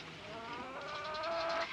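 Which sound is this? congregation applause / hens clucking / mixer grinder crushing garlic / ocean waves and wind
hens clucking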